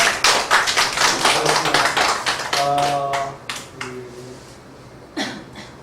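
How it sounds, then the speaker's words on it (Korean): Audience clapping at a Korean parenting coaching lecture, a burst of applause that thins out into scattered claps, with a brief tonal sound in the middle and a final few claps. "다시 한번 박수 한번 부탁드립니다."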